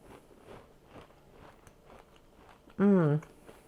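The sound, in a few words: biting and chewing a crunchy cheese Krispie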